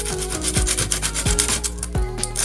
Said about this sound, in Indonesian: Kita amplas semua untuk bagian ujungnya.